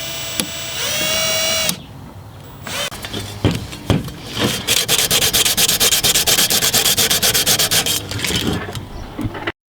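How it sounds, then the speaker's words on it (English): A cracked turbo exhaust pipe being sanded down with quick, rhythmic back-and-forth scraping strokes after a brief whirring tool sound, close and loud, with no talk. "then they want you to sand down the affected area"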